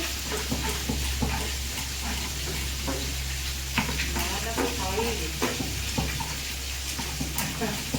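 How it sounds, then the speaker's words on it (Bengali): Fish frying in hot oil in a home kitchen, a steady close sizzle and crackle running throughout with scattered clinks and stirring sounds, and faint voices in the background. "মাছটা দিকে ভাজা হচ্ছে"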